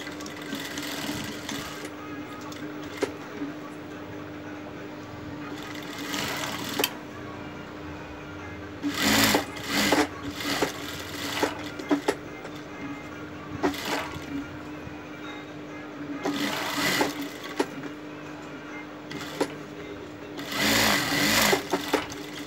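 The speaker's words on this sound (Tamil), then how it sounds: "இது மேலே ஒரு ஓர தையல்" Sewing machine stitching the edge of a pant ticket pocket, running in several bursts of steady whirring separated by pauses, with a constant low hum throughout and no talking.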